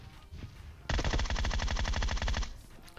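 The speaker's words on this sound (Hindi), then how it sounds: "गोलियां चलाता हूं" Sustained burst of automatic gunfire in the mobile battle royale game PUBG Mobile, loud and rapid, running about a second and a half after a quieter lead-in, with no talk over it.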